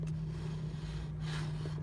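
A car heard from inside the cabin gives a steady low engine drone with a strong hum, moderately quiet and continuous, with a faint rising whoosh near the end and no talk.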